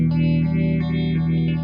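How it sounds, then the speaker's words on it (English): Red Witch Moonphaser analog guitar pedal in its second phaser position, a sustained guitar tone swept by a slow, rhythmic phasing whoosh that rises and falls about every 0.4 seconds, loud and alone without talk. "Next position is the second phaser."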